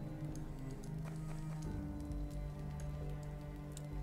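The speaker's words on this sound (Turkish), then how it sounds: "Dışarıda da yağmur yağıyor." Rain falls outside in the video game Beholder, a steady soft patter of drops on surfaces running throughout, mixed with low music and other game sounds.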